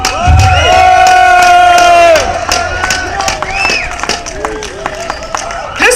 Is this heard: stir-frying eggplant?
no